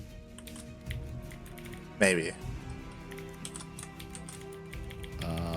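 Keys tapping on a computer keyboard during a StarCraft 2 tournament broadcast, quick irregular clicks that are faint and mixed beneath a caster's talking and game sounds.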